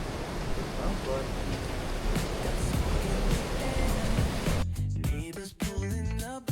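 Steady broadband rush of a waterfall pouring into a creek in a rainy Wisconsin Dells canyon, continuous and fairly loud for most of the stretch, then giving way to music with a synthesizer and talk box near the end.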